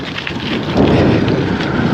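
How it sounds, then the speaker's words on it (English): Rain falls steadily during a road trip, a dense close wash of noise with wind buffeting, loud and continuous with no talking. "And here comes the rain once more."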